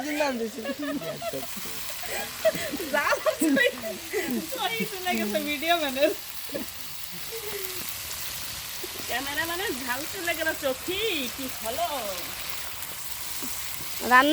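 Village vegetables and fish fry in a pan with a steady soft sizzle, mostly under lively conversation among several people nearby.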